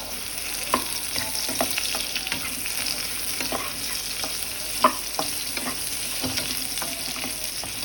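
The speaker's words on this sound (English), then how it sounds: "So we will saute for like 1 to 2 minutes" Vegetables sautéing in a pan for bhog khichuri, a steady close sizzle with repeated scraping and stirring clicks of a spatula, one sharper knock near the middle, no voices.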